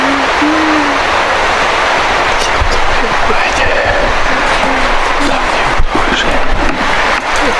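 Several gunshots ring out in a forest, sharp distant cracks scattered over a steady roar of wind or hiss, with faint shouting voices in the background.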